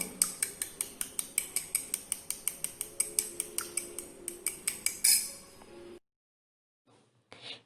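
A spoon briskly mixes almond cream in a small bowl, making a fast, even run of light clinks and taps close by, then stopping abruptly with near silence and a last faint touch.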